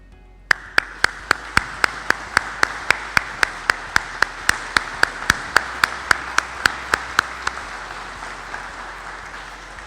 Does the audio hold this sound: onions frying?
no